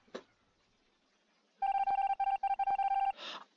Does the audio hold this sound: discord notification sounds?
yes